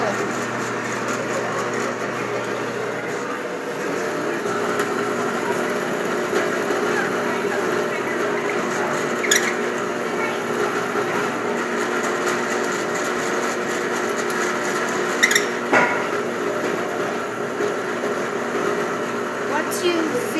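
An MC Knoll 7P drill press runs with a steady mechanical whine and hum while drilling, with occasional brief higher clicks or squeals over the continuous motor tone.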